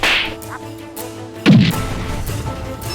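A single sharp slap to a woman's face lands about midway, a crisp smack standing out from a quiet, murmuring background.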